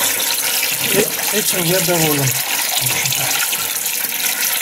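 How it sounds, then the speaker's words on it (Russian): Liquid pours steadily out of a copper beer brewing kettle, a continuous watery rush heard the whole time while someone briefly speaks over it. "Посмотреть, каким потоком все это льется."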